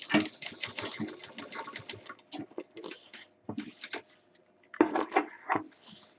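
A domestic sewing machine runs a double line of stitching on fabric for a mixer-grinder cover, in quick irregular bursts of rapid needle chatter with short pauses and a few stops and restarts, close and moderately loud.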